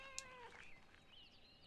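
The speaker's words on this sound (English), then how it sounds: "that's a real cat" A cat meows in the video game Pentiment, one clear drawn-out meow followed by a softer trailing call, close and alone without speech.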